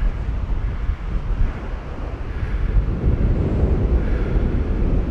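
Wind blows across the microphone at a hillside slope-soaring site for radio-controlled gliders, giving a loud, continuous low rumble with gusty swells and no voices.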